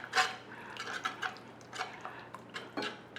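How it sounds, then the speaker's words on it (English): Wet ingredients for sourdough flatbread being stirred in a bowl in a farm kitchen, making light clinking and scraping taps against the dish in an uneven rhythm, fairly close and quiet. "I'm going to stir all of my wet ingredients together"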